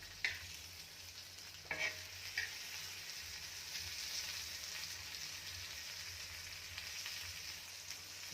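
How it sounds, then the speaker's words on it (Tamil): Ladyfinger (okra) pieces roasting on a tava over a slow flame, with a faint, steady low sizzle and a few sharp clicks of turning early on, no talking. "இப்போ இது இன்னொரு 5 மினிட்ஸ் இதே மாதிரி நல்லா ஸ்லோ ஃப்ளேம்லேயே ரோஸ்ட் ஆகட்டும்"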